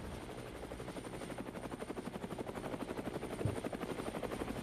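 A helicopter flies overhead, its rotor beating in a steady rapid chop that grows gradually louder and stays close throughout, with no voices.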